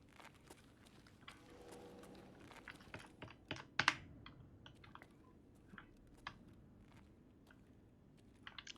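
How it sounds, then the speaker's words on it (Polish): Computer keyboard keys click quietly and irregularly during a session of Escape from Tarkov, with scattered taps and a few louder presses over faint background hum. "Mam nadzieję, że przyciski od klawiatury Wam nie przeszkadzają zbytnio."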